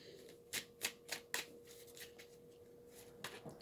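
Tarot cards being shuffled in a quick run of four crisp riffling bursts, then softer scattered shuffling and two more bursts near the end, close and quiet with no talking.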